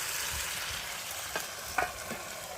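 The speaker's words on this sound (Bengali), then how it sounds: "আর এখন মাংসটাকে কষাবে বেগুনটাকে দিয়ে একটু ভালো করে কষিয়ে নিয়ে" Chicken and eggplant sauté in a hot pan, giving a steady close sizzle with a few brief stirring scrapes and clinks, no voices.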